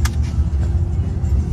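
Interior of an Uber car heading to a hotel from Miami, a low, steady engine and road rumble heard up close for a brief moment with no talking.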